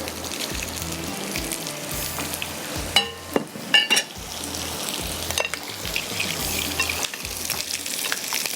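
Potatoes frying in a pan with ginger, green chillies and garlic, a steady close sizzle with occasional stirring clatter and a few sharper knocks midway, no speech.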